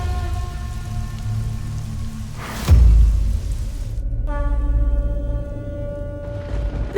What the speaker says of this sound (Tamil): இவ்வளோ அதிபயங்கர மழையா?